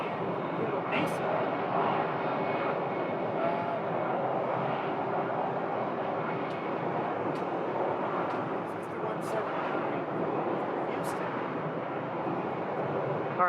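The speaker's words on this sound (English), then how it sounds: "CRJ flight 6179 coming in from Houston" A Mesa CRJ regional jet arriving at Phoenix Sky Harbor from Houston, a steady distant engine roar that holds throughout while someone talks over it, with faint high chirps scattered on top.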